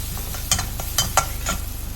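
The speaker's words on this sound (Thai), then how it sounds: "ใส่น้ำมันลงไปครับ ตามด้วยพริกกระเทียมครับ ขั้นตอนนี้เน้นนะครับ ว่าต้องผัดให้หอมนะครับ" Chili and garlic stir-fried in hot oil in a pan, a steady close sizzle with a few sharp scraping strokes of the spatula, no voices.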